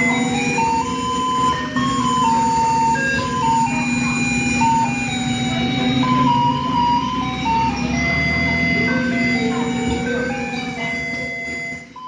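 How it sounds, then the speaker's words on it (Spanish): A garbage truck's jingle of synthesized classical music plays as a string of bright electronic tones over a steady street rumble, continuous and fairly loud, with no talk. "Tú escuchas la canción del basurero, que es una canción de música, es música clásica, pero sintetizadora"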